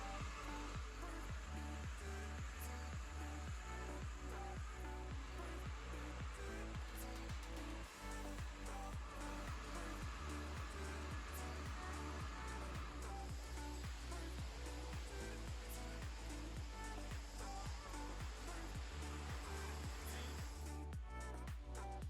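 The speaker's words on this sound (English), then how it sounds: "a PCD is installed on the hand grinder to remove some of the material" A hand-held concrete grinder fitted with a PCD tool strips paint and coating from a concrete surface, producing a loud, steady rough grinding roar with rhythmic chattering pulses throughout.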